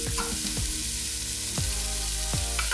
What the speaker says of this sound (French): Je mélange toujours entre chaque ingrédient.